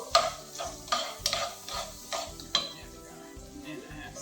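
Bell peppers and onions hit a buttered pan and sizzle softly, with clinks and scrapes of a utensil stirring against the pan in a few sharp knocks.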